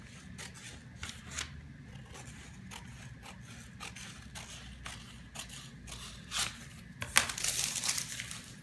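Scissors snip through paper pattern pieces while trimming excess around a gore flared skirt front, giving quiet, close crisp cuts with light crinkling, growing busier and louder toward the end.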